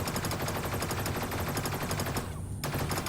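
A weapon in the Sublevel Zero shooter game fires continuously in a rapid, dense stream of shots over a busy, loud game soundtrack, with only a brief dip near the end.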